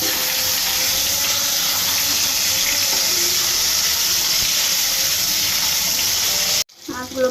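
Flipped fish frying in hot oil in a frying pan, a loud, steady, close hiss of sizzling that breaks off abruptly, followed by a few clattering handling sounds.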